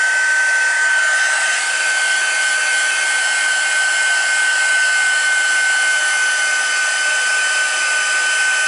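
Steady, loud blowing whir of an embossing heat tool drying embossing powder on vellum, running continuously for the whole stretch with a constant high-pitched tone and no talking.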